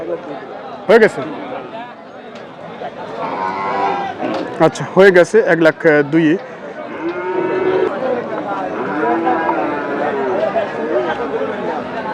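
Cattle moo repeatedly amid a busy crowd at a cattle market, with several voices chattering and calling nearby, loud and close throughout.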